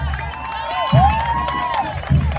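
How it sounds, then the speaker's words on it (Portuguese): At a 7 September parade, a crowd claps and cheers in bursts, with shouts and whistles over a warbling background tone and a loudspeaker voice mixed in. "Aplausos!"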